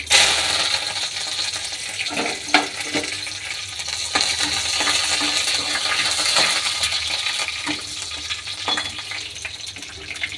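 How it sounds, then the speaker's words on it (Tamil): Curry leaves drop into hot oil where mustard seeds are spluttering for a green chilli chutney tempering, a steady bright sizzle with scattered sharp pops and crackles throughout, no voices. "கடுவு நல்லா பொரிஞ்சிச்சு கருவேப்பிலை போட்டுக்கலாம்"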